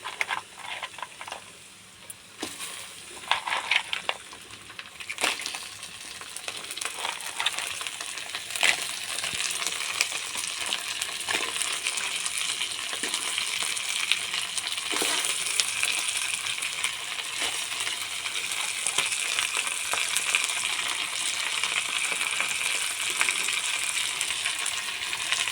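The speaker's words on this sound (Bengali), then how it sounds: "এবারে কাঁকড়াগুলো তুলে দেবো।" Crabs frying in a hot pan with onion, ginger and garlic: a few sharp clacks and splashes at the start as they go in, then a loud, steady, dense sizzle that continues unbroken, no talk.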